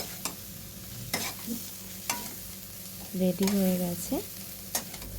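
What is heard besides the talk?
stirring soybean with turmeric and chili in a frying pan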